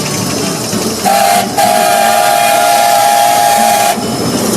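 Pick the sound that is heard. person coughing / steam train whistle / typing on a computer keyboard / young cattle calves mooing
steam train whistle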